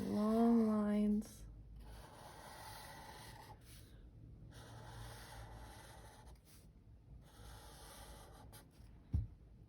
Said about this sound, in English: Okay, so I'm going to draw some long lines.